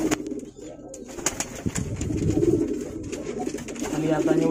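Javanese pigeon (merpati Jawa) cooing, a low repeated coo with soft throaty pulses close by, over a busy background with faint voices and small clicks.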